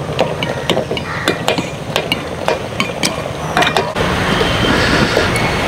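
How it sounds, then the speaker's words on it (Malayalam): A spoon scrapes and clinks through a prawn mixture in coconut oil in a pan, a run of sharp irregular taps and scrapes, fairly loud and close, giving way to a steadier sizzling rush at the end. "നൈസായിട്ടൊന്ന് ഇളക്കി കൊടുക്കാം."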